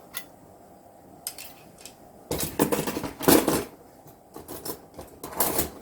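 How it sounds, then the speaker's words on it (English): Old cutlery is handled and clinks in irregular metallic rattles and clatters, with some bursts denser and louder than others, close by in a house being cleared of kitchenware. "I've got some old cutlery"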